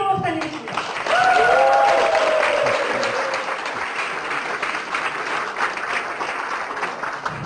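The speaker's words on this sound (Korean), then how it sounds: "오늘 강의를 주실 거선의 김기로 박사님 모실 때 우레와 같은 박수 부탁드립니다" Audience applause welcoming a lecturer, Dr. Kim, at a talk on hydrogen water, rising to a loud, steady wash of clapping with a brief whistle-like tone near the start, sustained throughout.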